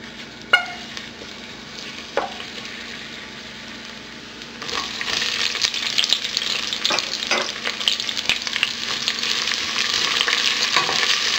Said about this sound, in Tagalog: igigisa na natin yung garlic at yung onions